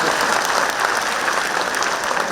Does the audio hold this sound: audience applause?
yes